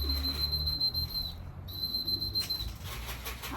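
Someone outdoors at a racing pigeon loft during a young bird race gives two long, steady, high-pitched whistles to call pigeons in, with a short break between them and faint outdoor noise around.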